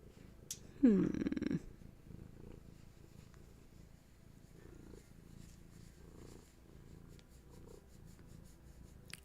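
A cat purrs softly and continuously, close up, after a brief louder chirping or vocal sound near the start.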